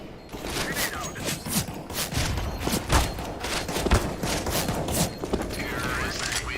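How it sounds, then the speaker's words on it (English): Counter-Strike match play with a grenade thrown amid dense, rapid gunfire, clanking weapon mechanisms and footsteps, busy and loud throughout, with a player voice faintly mixed in. "Grenade out."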